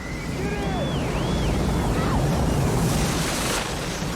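Strong wind gusts in Las Vegas roar steadily and loudly throughout, a continuous broadband rush buffeting the microphone, with faint sliding whistle-like tones in the first couple of seconds.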